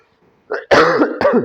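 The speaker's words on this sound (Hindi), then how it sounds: "खांसी लगी हुई है बहुत सख्त" A short throat-clearing cough, two harsh close bursts in quick succession after a brief quiet lead-in.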